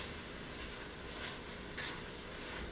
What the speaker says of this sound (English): So I'm just going to give the cabbage a stir.